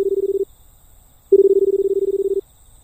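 A public telephone in an escape puzzle game gives a pulsing ringback tone in two bursts, a short one and then a longer one after a gap, loud and clean with nothing else over it.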